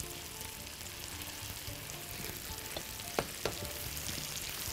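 Sauce and tomato juice poured into a pan for vermicelli paella, giving a soft steady sizzle and bubbling throughout, with a couple of brief sharp clinks of a utensil near the middle.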